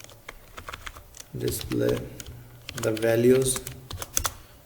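Clicky computer keyboard typing while writing C++ code, quick irregular keystrokes throughout, with someone talking over them in two short stretches.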